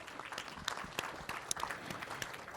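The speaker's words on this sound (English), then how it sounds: "So another round of applause for both John and Pam." Applause from a wealth planning summit audience, moderate clapping with distinct crisp claps standing out over a continuous patter, fairly close.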